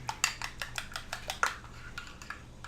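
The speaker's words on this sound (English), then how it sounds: "Now let me borrow your spoon. Mix up the eggs" A spoon clinks and scrapes around a bowl while eggs and melted chocolate for a chocolate pie are mixed, with a quick run of sharp, close metallic taps that slow and soften toward the end.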